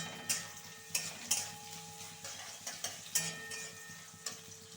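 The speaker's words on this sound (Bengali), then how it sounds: "তেজপাতা দিয়ে দেওয়ার পর আগে থেকে কেটে রাখা সমস্ত পেঁয়াজগুলি আমি তাতে দিয়ে দিলাম" Sliced onions fry in hot mustard oil with bay leaves, giving a low steady sizzle broken by sharp clinks and scrapes of a spatula against the pan, with no one talking.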